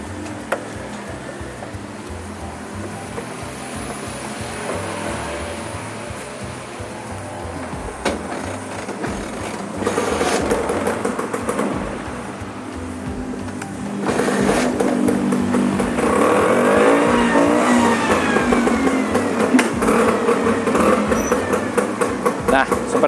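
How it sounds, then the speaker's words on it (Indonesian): An engine turns over and settles into a steady running rumble, close by, with a person speaking over it and some knocking and clatter as it runs. "Coba kita nyalakan mesinnya."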